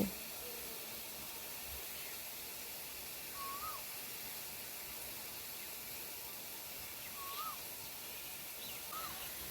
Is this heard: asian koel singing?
yes